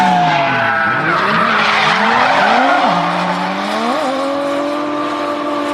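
Car drifting on the Fuji Speedway drift track, continuous loud tire squeal with shifting pitch over a revving engine, sustained and close throughout, no talk.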